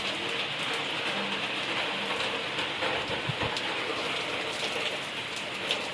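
Steady rain falls and patters on surfaces outdoors in a farming village, a constant dense hiss with no pauses and no voices.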